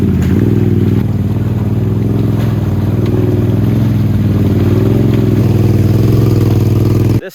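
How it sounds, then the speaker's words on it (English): A 2022 Can-Am Outlander 850 XMR ATV revs in a mud hole, its loud, close engine droning continuously as the revs rise and fall, then cutting off abruptly. "I think what I'm gonna do is hit it a couple times, kind of rut it up, spin it up a bit"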